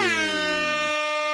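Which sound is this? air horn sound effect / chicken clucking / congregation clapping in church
air horn sound effect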